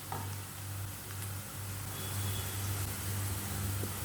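Chopped onions fry in oil in a pot for a chicken sausage pulao as they turn lightly brown, giving a faint, steady sizzle over a low background hum with no voices.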